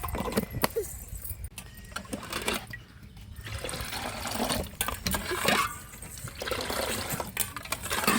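Water pours into sweet lime juice in a jug, a splashing, gurgling stream that comes in bursts with short pauses, close and fairly loud.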